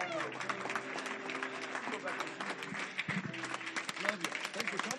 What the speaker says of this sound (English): Give your new brothers and sisters a big hand clap.